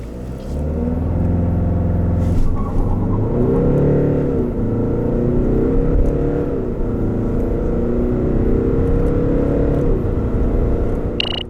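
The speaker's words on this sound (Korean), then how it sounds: "그럼 이번에는 DS7 크로스백의 가속 성능에 대해서도 한번 알아볼까요?" A 2019 DS7 Crossback accelerates hard during a timed acceleration run, with a loud engine roar that rises and dips through several gear changes over a continuous road rumble, heard from inside the cabin.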